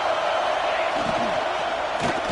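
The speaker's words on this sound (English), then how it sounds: "And here comes the noise. This crowd is trying to inspire this defense to make a big red zone stop." A college football stadium crowd roars in a broad, sustained wash of cheering, with scattered whoops and shouts rising out of the din.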